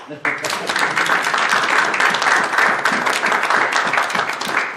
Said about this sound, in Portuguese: Merece umas palmas.